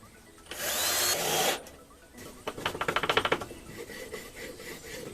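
A power drill bores into wood in one short burst, then a screwdriver drives a screw with a quick series of ratcheting clicks while building a wooden candy dispenser, followed by quiet handling noises.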